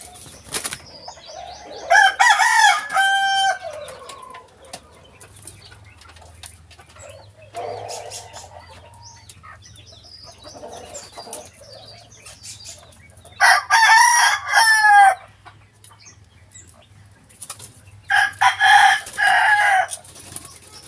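Pet birds, including a rooster, give loud bursts of crowing and clucking in three separate spells, with wing flapping and quieter stretches of low rumble between.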